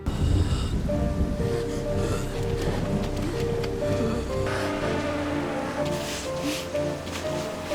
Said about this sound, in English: Pak Lung walks into the rain, lost in his own hallucinations